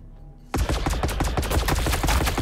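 Sudden burst of heavy rapid gunfire in Warhammer 40K: Battlesector, a T'au Empire unit opening up after a quiet moment, with loud, steady, close shots continuing to the end.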